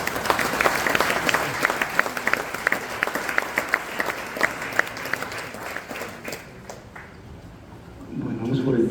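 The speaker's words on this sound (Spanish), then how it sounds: "¿Cuánto da un fuerte aplauso al Señor?" Congregation applauding at a church service, a sustained round of rhythmic clapping and cheering that fades after about six seconds as a voice comes in, with a low rumble near the end.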